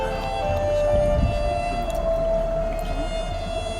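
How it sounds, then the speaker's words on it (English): An alto saxophone with a marching unit plays an eerie, underwater-like sound, wavering whale-like tones held over a dense, noisy band backdrop, continuous and fairly loud throughout. "Really intriguing sound from the saxophone."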